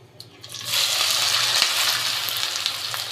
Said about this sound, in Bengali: পেঁয়াজগুলো ভালোভাবে ভেজে বেরেস্তা করে নিব।